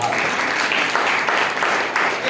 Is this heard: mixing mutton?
no